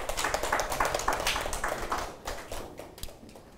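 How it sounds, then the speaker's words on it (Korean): A church seminar audience gives a short round of applause as the pastor leaves, light scattered clapping that fades over a few seconds. "목사님 퇴장하실 때 박수 한 번만."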